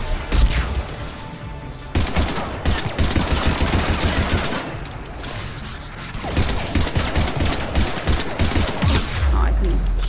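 Constant rapid gunfire from a Mass Effect 3 battle on Rannoch, dense bursts of automatic shots and impacts running almost the whole time with hardly a break, with talk over it at points.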